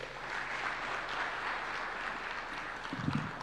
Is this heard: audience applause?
yes